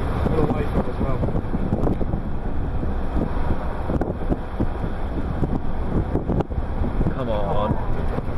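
Strong outdoor wind buffets the microphone in heavy, uneven gusts during a Colorado storm chase, with people talking under the rumble.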